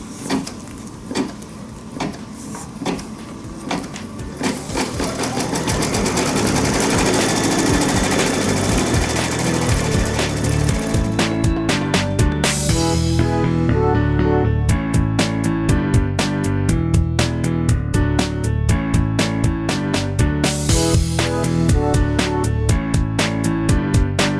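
An embroidery machine stitches a Christmas ornament appliqué, starting with scattered clicks and then settling into a loud, fast, steady mechanical chatter with repeated rhythmic needle strikes and brief pauses between runs.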